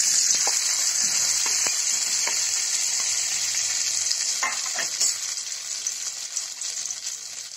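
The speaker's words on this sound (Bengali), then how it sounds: "তেলটা গরম হয়ে গেলে এবার আলুগুলি দিয়ে দিই" Diced potatoes fry in hot oil with a bright, constant sizzle, broken by scattered scraping stirs and taps that grow a little more frequent as the hiss eases slightly.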